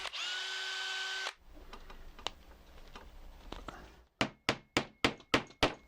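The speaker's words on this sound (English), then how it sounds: "so I'm going to have to drill it out." A small power drill whirs briefly while boring out a plastic part for a TOMY Power Up Speedway toy racing car, followed by light handling clatter and a quick series of sharp taps, close and fairly quiet.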